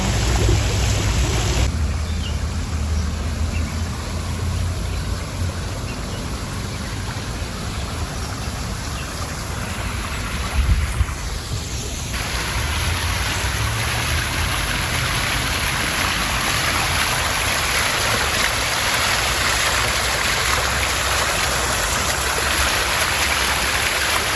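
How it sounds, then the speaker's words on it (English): A waterfall in a backyard pond gives a loud, steady rush of splashing water that runs continuously. A brief thump is heard partway through. "Waterfall"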